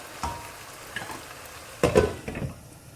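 Keema karela (minced meat with bitter gourd, onion, tomato and a little water) cooking in a pan on low heat, with soft scattered sizzles and a few brief pot and utensil clinks, no talk.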